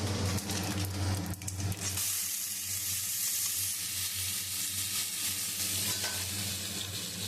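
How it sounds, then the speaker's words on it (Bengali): Mung dal fries in a pan with fennel seeds and cumin for khichuri, sending up a close, continuous, even sizzle with no voices over it. "এবার মুগ ডালটাকে আমি ভালো করে ভেজে নেব।"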